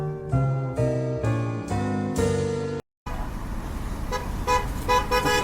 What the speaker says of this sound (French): je suis avec Véronique, vous entendez les klaxons là, pour les Gilets jaunes.